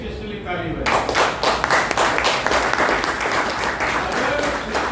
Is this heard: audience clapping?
yes